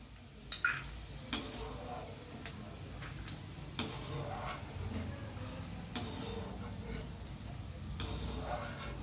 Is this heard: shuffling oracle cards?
no